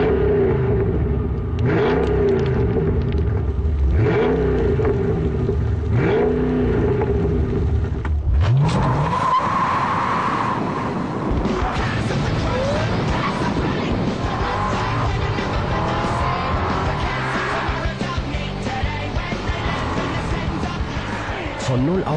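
A Mercedes CLK DTM AMG with a supercharged 5.5-litre V8 revs and accelerates hard, rising engine pitch sweeping up through gears, then a loud roaring drive with tire noise, while someone narrates over it.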